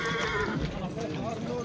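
Horses at a horse market in Manas, with hoof clops and a whinny mixed into a busy crowd. Voices of people talking and bargaining stay loud throughout.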